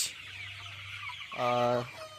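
Sonali chickens, 40 days old, cluck close by in a poultry shed, with a soft low hum at the start and one louder, sustained harmonic call near the end.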